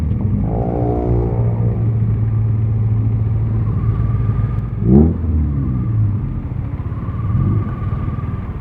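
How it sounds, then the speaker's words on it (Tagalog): A car engine idles with a steady low rumble, with a short rev surge midway, near and loud, then settles back to a constant drone with no talk. "May bumobomba na kotse."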